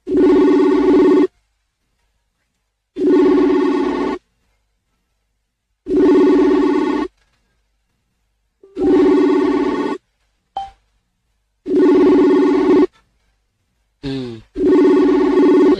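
A telephone call rings out while waiting to be answered, six long ringing bursts of about a second each separated by silent gaps, loud and close, with a brief click and a short chirp between rings.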